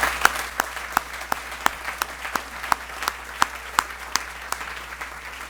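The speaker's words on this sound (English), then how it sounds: "I think we should applaud him for his efforts" Applause for Father Joe Parks at a Water Club 2016 gathering: sharp, evenly spaced claps in a steady rhythm about three per second, standing out crisply over a quiet room background.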